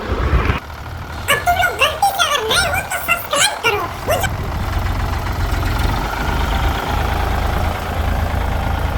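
A Sonalika tractor engine idles in a farm field before ploughing, with a steady low rumble throughout and someone talking over it for the first few seconds.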